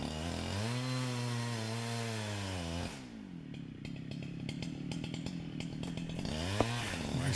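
Chainsaw cutting the felling wedge out of a beech tree, first a steady loud revving whine, then a rougher, choppier cut with bursts of wood chips, continuous and close throughout.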